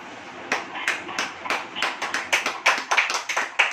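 An audience at a church service claps in a steady rhythmic beat, about three claps per second, loud and close, building slightly toward the end with no talking over it.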